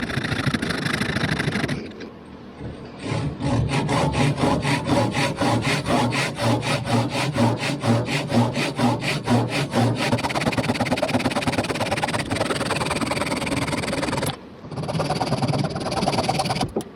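Coarse 60 grit sandpaper rubs by hand over a wooden swimbait lure in rapid, rhythmic back-and-forth strokes, loud and close, with a brief pause near the start and another near the end.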